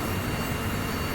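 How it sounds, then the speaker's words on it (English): Steady, loud engine roar from a naval aircraft in the Sea Power naval combat game, a continuous broadband drone that stays close and constant throughout, with no talking over it. "Trying to get away from that engine. It's really loud."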